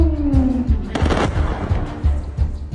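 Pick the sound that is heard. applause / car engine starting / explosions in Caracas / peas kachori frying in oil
explosions in Caracas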